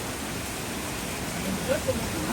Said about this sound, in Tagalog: kahit malakas ang ulan, sige lang oh.